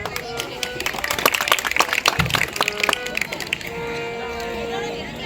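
A crowd claps briefly and unevenly at an outdoor Ramleela performance, with scattered sharp claps rising then fading under a loudspeaker voice and background music.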